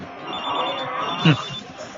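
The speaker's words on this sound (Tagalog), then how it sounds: "Cellphone mo yata yung tumutunog." A cellphone rings in a classic Filipino horror radio drama, a brief electronic chirp over a hushed background with faint voices nearby.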